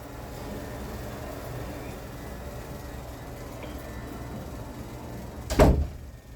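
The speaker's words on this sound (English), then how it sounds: "You mind if I close this door?" An indoor door swings shut with one solid thud and a brief rattle near the end, set against a steady low room hum in an office or facility.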